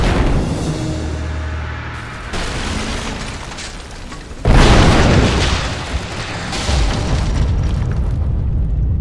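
A Greek fire vessel explodes in Rise of the Tomb Raider video game, giving loud, close booming blasts with rumbling debris, including a sharp heavy burst midway, then sustained crackling roar.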